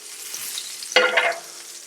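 Pieces of chicken hit hot oil in a pan with a sudden loud sizzle burst, settling into a softer crackling fry nearby, with no talk.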